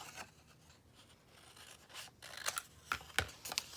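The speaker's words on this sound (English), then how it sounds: "Just cut it with my scissors." Scissors snip through paper close up on a crafting desk, a few quiet crisp cuts and rustles, with the sharpest snips clustered near the end and nothing else heard.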